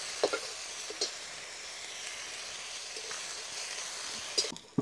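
An onion mixture with green chilli thecha sautéing in a pan until golden gives a soft, steady sizzle, broken by occasional scraping stirs and a clatter of the utensil near the end.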